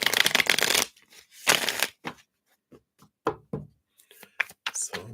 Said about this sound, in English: Let's give these a little shuffle.